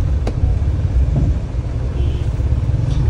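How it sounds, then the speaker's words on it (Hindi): Car engine rumbling steadily as the vehicle is driven in to park on a street in Multan, a loud close low drone throughout with no speech. "गाड़ी को पार्क करते हैं।"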